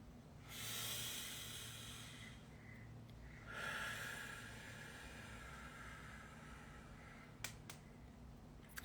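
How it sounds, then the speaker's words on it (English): Two long, airy breaths during a guided group session, a deep inhale and then a slower exhale, soft and close in a quiet room, followed by a couple of small clicks. "Take a deep breath."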